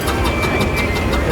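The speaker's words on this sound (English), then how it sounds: "Again, another showman engine." A showman's traction engine runs at a steam rally, giving a loud, steady mechanical rumble with faint regular beats and a thin whistle-like tone throughout, close by.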